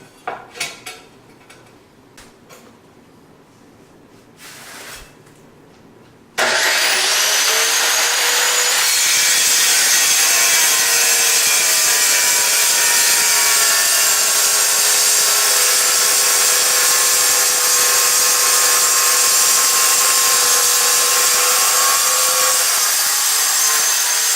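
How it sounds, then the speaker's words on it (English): A wet saw trimming stone and pebble shower tile: a few quiet clicks and handling noises, then the blade spins up into a loud, sustained, high grinding whine that runs steadily to the end. "I'm just going to use the wet saw to do that."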